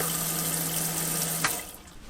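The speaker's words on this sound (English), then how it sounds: "the electric pump." An electric water pump in a converted van runs water from the tap, a steady close rush of flowing water over a low motor hum that cuts off abruptly near the end, leaving a faint residual trickle.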